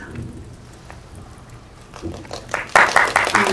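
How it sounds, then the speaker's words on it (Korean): Applause rises from an audience at a press screening of an animated film, building from faint scattered claps into a louder, dense patter over the last second, with a voice faintly heard beneath it. "박수까지 나오네요"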